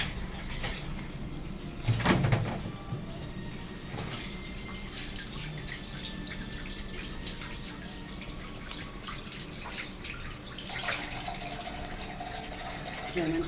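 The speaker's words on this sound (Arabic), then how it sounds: "بعد كده هنبدا نغسل الفراخ بتاعتنا ونحطها في الحله بتاعتها" Running tap water splashing steadily while raw chicken is washed in a pot in a home kitchen, a continuous close hiss with a brief louder gush around two seconds.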